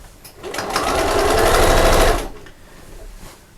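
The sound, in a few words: sewing machine stitching a seam on a machine cover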